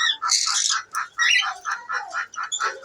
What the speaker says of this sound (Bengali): এটা আমার ঘরেরই পাখি ওর নাম আলিফ